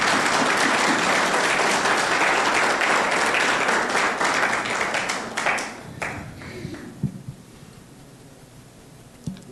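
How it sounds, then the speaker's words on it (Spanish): Loud, sustained applause from a church congregation, dense clapping that gradually thins out into scattered claps and fades near the end. "Dale un aplauso al Señor, por favor."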